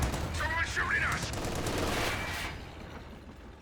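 Gunfire in a Company of Heroes 2 battle between Ostheer and British forces, heard as a sustained rattling burst of small-arms fire that fades after a few seconds, with a faint voice in the background.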